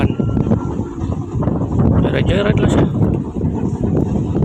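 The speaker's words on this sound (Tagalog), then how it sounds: "Sunod kusog yung hangin eh." Strong wind roars steadily across the microphone, with a voice speaking briefly over the rushing noise.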